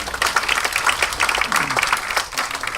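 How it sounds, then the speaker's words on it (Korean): Members of a party assembly caucus in a meeting hall applaud, a steady, dense round of clapping from many hands that carries on loudly for the whole stretch. "앞으로 원내를 더 강하게 이끌어 주실 우리 박영선 대표님께 큰 박수로 여러분 부탁드립니다"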